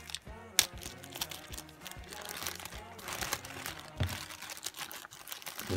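A resealable plastic zip bag inside a box is pulled open, giving sharp crinkles and crackling clicks up close, with quieter rustling between them.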